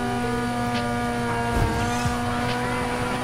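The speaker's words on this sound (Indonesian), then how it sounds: "suaranya mesin dua rotor tuh di sini tuh jadi berubah ya" A Mazda MX-5 fitted with a two-rotor rotary engine in the racing game Need for Speed Heat holds a steady, loud, buzzing idle with strong harmonic tones and small revving blips, heard alone without talk.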